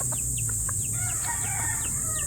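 A chicken clucks in short, quick notes close by, over a steady hum and a constant high background buzz.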